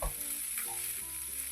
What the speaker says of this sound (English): So we're frying the rice.